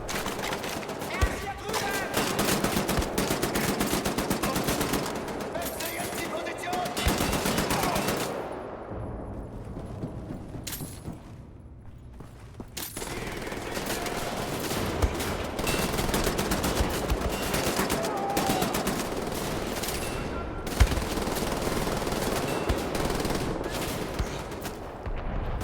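Sustained automatic gunfire from Wolfenstein: The New Order (PC, 2014), dense rapid bursts and shots almost throughout, with a short lull midway before the firing resumes loud and close.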